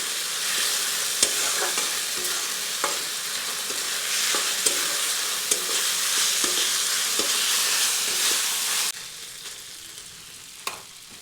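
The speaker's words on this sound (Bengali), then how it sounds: "আদা রসুনটা কিছুক্ষণ ভেজে নিচ্ছি যাতে এর কাঁচা গন্ধটা চলে যায়" Ginger garlic paste with carrot frying in a pan, a steady close sizzle with occasional stirring clicks and scrapes, quieting near the end.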